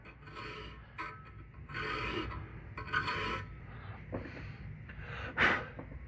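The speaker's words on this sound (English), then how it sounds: "let your file do the work, no matter what type of filing you're doing" A hand file rasps in repeated strokes across the cutters of a full chisel saw chain during square filing, near and fairly loud, with bursts of steady scraping separated by short pauses.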